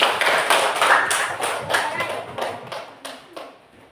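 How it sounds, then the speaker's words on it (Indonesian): Schoolchildren in a classroom clap in rhythmic bursts for three groups, the claps close and spaced, fading toward the end while voices talk over them. "Mari kita tepuk tangan untuk 3 kelompok yang ada. Oke, tepuk tangan dulu."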